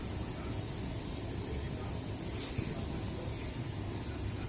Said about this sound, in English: Just wipe it on gently,